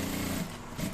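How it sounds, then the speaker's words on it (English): Sewing machine stitching a half-inch hem on boxer shorts, a close continuous mechanical whir with a brief slowdown midway before it picks up again. "We are sewing just half inch."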